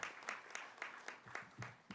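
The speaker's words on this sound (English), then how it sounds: "Would you give the New Yorkers a big round of applause?" Conference audience applauding a group of New Yorkers, a faint, steady patter of many hands clapping that carries on for a couple of seconds.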